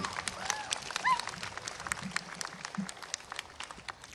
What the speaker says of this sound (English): Please give a round of applause to all who were a part of your educational journey.